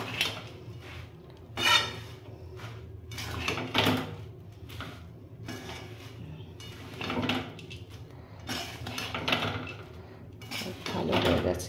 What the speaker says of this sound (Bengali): খুব ভালো করে এটাকে মিক্স করে নেব